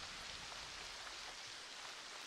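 Rain falls in LEGO Fortnite with a faint, even hiss that runs unbroken throughout, and no one speaks.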